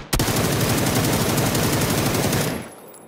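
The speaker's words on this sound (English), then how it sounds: "That's K98." Sustained, loud gunfire from a K98 rifle in PUBG on the Taego map, rapid shots merging into a continuous roar for over two seconds before cutting off sharply.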